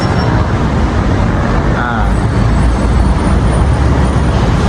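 Continuous, loud roar of road traffic, including cars and buses, on streets around Bukit Bintang in Kuala Lumpur, heard from a high vantage point. The dense broadband wash of engines holds steady throughout, with no individual vehicle standing out.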